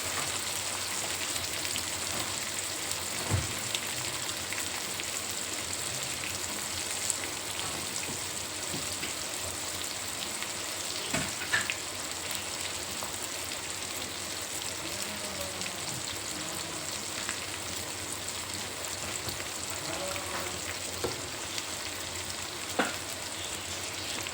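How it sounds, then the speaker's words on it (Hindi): Onions and whole dried red chillies frying in oil give a steady, dense sizzle that runs the whole time, with occasional louder crackles and pops and no voices. "मैंने प्याज और खड़ी मिर्ची ऑयल में डाल दिए हैं"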